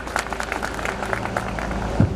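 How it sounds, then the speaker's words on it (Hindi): An audience in Badlapur claps to welcome a guest, a steady patter of many hands at moderate distance that carries on evenly for a couple of seconds, with no voices over it. "सभी लोग ताली बजा करके इनका स्वागत करें"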